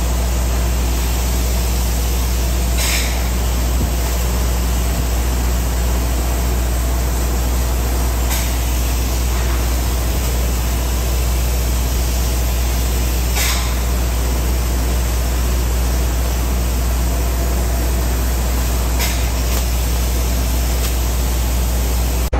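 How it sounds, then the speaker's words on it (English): Open cell spray foam insulation is sprayed onto a ceiling as a loud, unbroken hissing rush that stays close and constant for over twenty seconds, with a steady low rumble of equipment underneath. "putting that open cell foam on the ceiling, so it's a lot fluffier foam than the closed cell."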